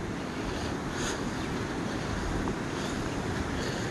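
A river in Jalapa, Guatemala flows with a dense, continuous broadband rush of water that is steady and fairly close, and no voices are heard.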